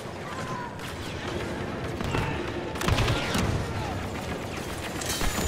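An explosive burst from a thrown grenade in the Star Wars Battlefront game, on the second Death Star, lands amid a dense barrage of gunfire and battle noise, with a louder thump near the middle.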